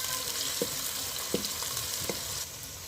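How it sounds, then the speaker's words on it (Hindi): Chopped onions fry in a pan for an aloo gobi, with a steady close sizzle and a few brief scraping stirs. "प्याज़ों को हमने ब्राउन नहीं करना, हमने प्याज़ों को सॉफ्ट करना है 1 से 2 मिनट तक।"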